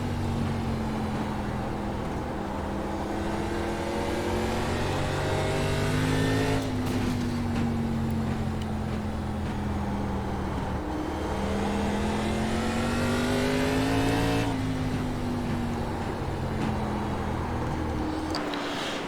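Race car engines in the iRacing ARCA Series at Lanier drone loud and steady, a pack of V8-style stock cars holding a high pitch that rises and dips slightly as they circle the oval together.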